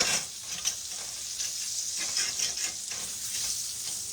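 Grease sizzles and pops in a cornbread skillet over an open fire, a steady crackling frying hiss with scattered small pops, fairly loud and close, with no talking.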